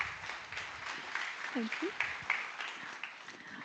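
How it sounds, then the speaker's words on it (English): Conference audience applauding a speaker at a cybersecurity forum in Prague, a steady wash of clapping from a crowd, with a voice speaking briefly over it. "Big round of applause."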